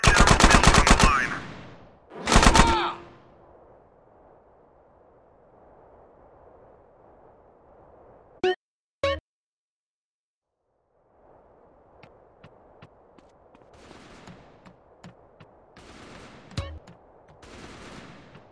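Gunfire from soldiers at a military base in GTA San Andreas, with two loud bursts of rapid shots near the start, a few sharp isolated cracks midway, then softer scattered shots over a low background.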